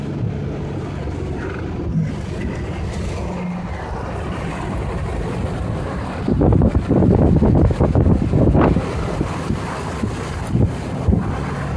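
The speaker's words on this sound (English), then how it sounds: "Winds are about 80 miles an hour." Gusts of roughly 80 miles an hour buffet the microphone on a highway where trucks have flipped over, producing a loud, continuous roar with heavy rumbling bursts partway through.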